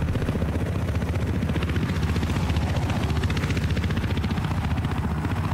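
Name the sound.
helicopter going down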